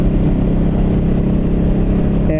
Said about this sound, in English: There, I'll downshift.